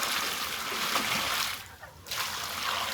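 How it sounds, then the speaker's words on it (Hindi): Water pours and splashes steadily into a newly cemented open farm pool, a broad rushing hiss that briefly drops away before resuming. "तो आज के इस दौर में हम डालेंगे पानी।"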